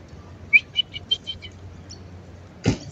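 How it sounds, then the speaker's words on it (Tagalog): Several large park birds such as ducks give short, fairly close chirping calls in a quick uneven series over a low steady background hum. A single louder broadband knock or thump follows near the end. "Ang lalaki ng mga ibon, guys, oh. Parang ano lang, parang itik o pato ba."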